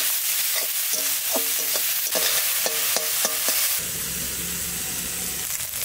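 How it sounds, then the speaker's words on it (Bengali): Squeezed parul flowers with salt and turmeric fry in a pan, a close sizzle broken by a run of quick metallic stirring clinks and scrapes, then a steadier hiss with no speech. "এবার ভালো করে ভেজে নেব।"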